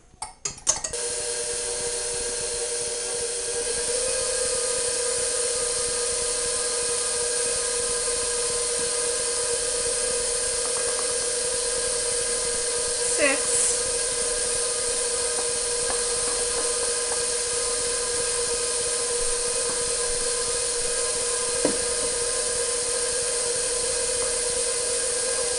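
A stand mixer fitted with a dough hook kneads cinnamon bun dough, its motor giving a steady, loud whirring hum that runs unbroken for the whole stretch with no voices.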